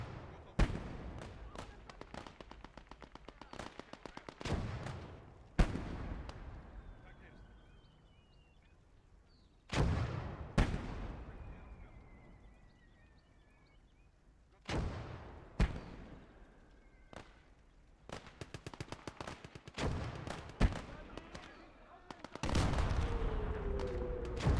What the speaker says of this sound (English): Hear enemy artillery and my allies' artillery exchanging fire.